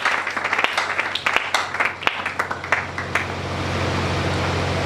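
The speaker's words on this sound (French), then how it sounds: "Acclamons très fort." A church congregation bursts into applause, with a flurry of sharp claps at first. The clapping soon merges into a loud, sustained wash of cheering and clapping that keeps going.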